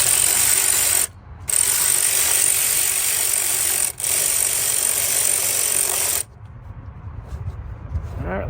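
A powered ratchet tightens a bolt on the knock sensor of a Lexus ES 300, running in loud, steady mechanical bursts with two brief pauses before stopping, followed by faint shop noise.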